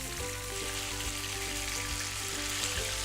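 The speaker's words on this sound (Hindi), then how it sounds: "एकदम से एक तरफ से ये फ्राई हो गया है चिकन" Chicken pieces fry in a pan, giving a continuous soft sizzle and crackle with a few small pops, steady and fairly quiet, with no voices.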